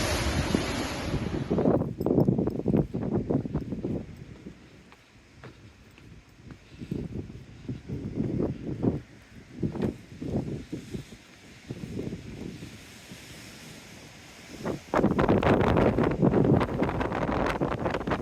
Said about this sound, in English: Very, very windy. I've had to turn the volume right down